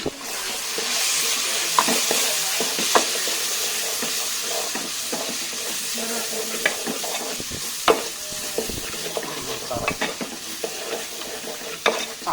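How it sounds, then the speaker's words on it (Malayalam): Beef chaps with garam masala stirred in a hot pan, with a loud continuous sizzle and hiss broken by frequent close scraping clicks from the spatula. "ഗരം മസാല ഇട്ടിട്ടുണ്ട്. നമുക്കിതൊന്ന് ഇളക്കിയിട്ട്"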